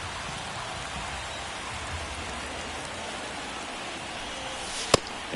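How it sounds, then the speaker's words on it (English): Steady rain falling on a baseball field in the MLB The Show 24 video game, a constant even hiss with a single sharp tick near the end. "the field's not going to be able to hold up if the rain gets any worse than this"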